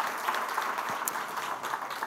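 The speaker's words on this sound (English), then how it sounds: "Let's have a round of applause for them again." Steady audience applause at an awards ceremony, a dense even patter of many hands clapping at moderate volume throughout.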